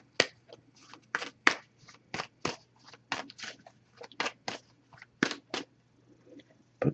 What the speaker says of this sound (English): so I'm just going to give this a few shuffles now